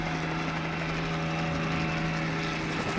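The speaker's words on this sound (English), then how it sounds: "As the rotor blades spin through the air, they generate lift" A helicopter's rotor thrums continuously with a low, steady beat and engine whine, loud and close throughout.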